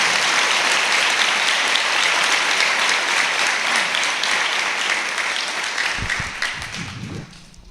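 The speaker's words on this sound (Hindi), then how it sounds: "Oh come on, go ahead, यीशु के लिए ताली बजाएं।" A church congregation applauds loudly and steadily for several seconds during a Hindi Christian sermon, the clapping thinning and fading toward the end, with a few low voices stirring beneath it.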